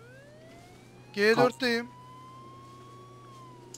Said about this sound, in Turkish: Siren yaktım.